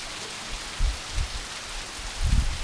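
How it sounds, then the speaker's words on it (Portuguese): Rain falls in the Bahia backlands after a long spell of hot, dry sun. A steady, soft hiss carries a few louder low thumps, with no voices. "Graças a Deus, chuvinha boa, viu?"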